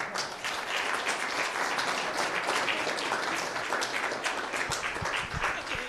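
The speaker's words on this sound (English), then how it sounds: "I think that deserves a round of applause, too." A formal ceremony honoring U.S. recipients of the 2017 Nobel Prizes fills with steady, dense audience applause that carries evenly through the whole stretch, with no voices over it.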